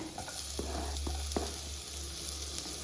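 Onion goes into hot oil with garlic and ginger and sizzles steadily, with several sharp stirring clacks of a spoon against the pan over a continuous frying hiss.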